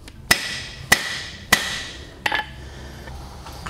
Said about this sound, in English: I will hit with the flat side of the hammer